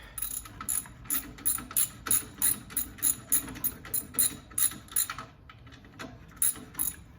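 A ratchet wrench turning the top bolt on a car alternator during an alternator upgrade: a quick, regular series of sharp clicks in bursts that slow and stop near the end, close and fairly loud, with no talking.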